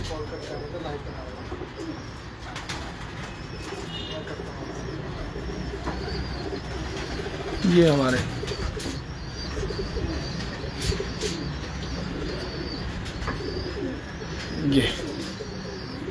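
Red-eyed home loft pigeons coo softly in a steady background murmur, with a few louder bird calls standing out now and then while someone talks over them.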